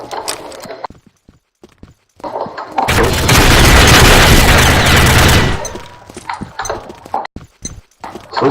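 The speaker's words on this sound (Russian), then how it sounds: "он нам гранату бросил" A grenade explodes in a video game as a loud, sustained roaring blast lasting a few seconds, framed by sparse sharp clicks and small in-game sounds before and after.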